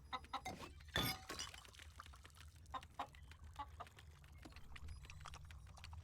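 A cartoon chicken clucks in an animated Teenage Mutant Ninja Turtles 2012 episode, with a sharp crash or shatter early on, then softer scattered clucks over a quiet background.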